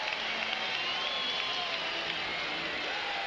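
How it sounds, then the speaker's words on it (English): Dense baseball crowd of about 26,000 at a 1995 Cubs vs Phillies game, a steady broad roar of cheering filling the stadium throughout, loud and continuous with no break. "This is the loudest roar we've heard from this crowd today."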